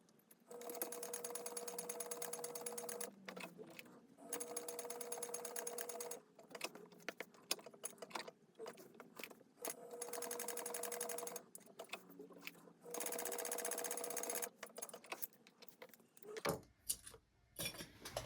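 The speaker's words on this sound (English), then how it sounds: "sew these together with a 1/4 inch seam allowance along this top edge only" A sewing machine stitches a quarter-inch seam on a wristlet. Steady whirring runs come in repeated bursts with short pauses and clicks between them, and there is no talking.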